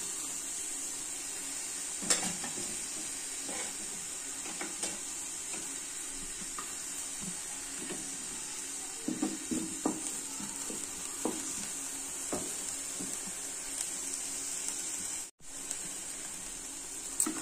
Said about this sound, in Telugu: క్యాప్సికమ్ కూడా కొంచెం వేయించుకోవాలండి.